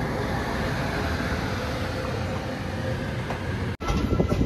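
The Guntur Express, train 17254, stands at platform 1 of Gangakhed railway station, giving a steady low rumble and hum that breaks off abruptly near the end before resuming with a brighter tone.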